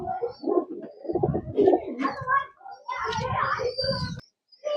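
Pigeons coo nearby in soft, throaty, repeated bursts that overlap one another, with short pauses between calls.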